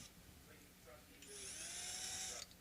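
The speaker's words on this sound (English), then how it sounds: "And let's do some drilling." A power drill bores into a roasted maple guitar neck for a Telecaster-style partscaster build, a steady high whine running about a second after quiet shop background.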